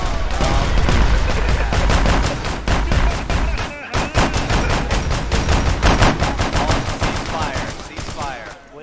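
Loud, continuous rapid gunfire from a Warhammer-style game, a firing squad shooting before the command, dense rhythmic machine-gun bursts that fill nearly the whole span and thin out toward the end.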